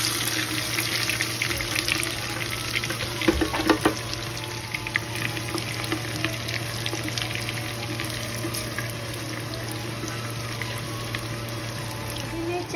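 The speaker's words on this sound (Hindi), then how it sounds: "मैं चॉप प्याज को डाल रही हूँ।" Chopped onions sizzle in a clay pot, a steady wet frying hiss with scattered crackles and a few clinks running throughout, under a constant low hum.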